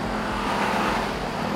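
A Jeep Grand Cherokee SRT8 engine drones steadily and loudly from close by as the SUV climbs the Pikes Peak Highway, a constant motor roar with road noise and no speech.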